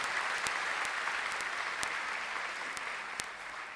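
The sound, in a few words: audience applause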